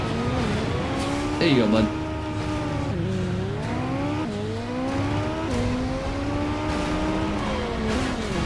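Car engine revving and tires squealing in Transformers: The Game as a vehicle rams a police car, with continuous loud motor drone, rising and falling pitch sweeps and a sharp impact, under someone talking.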